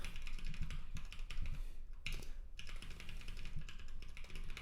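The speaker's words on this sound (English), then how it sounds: "Typing is really hard when it's this cold." Fingers typing on a computer keyboard in cold weather while programming, a quick run of close, crisp key clicks with a brief pause midway, then more steady tapping.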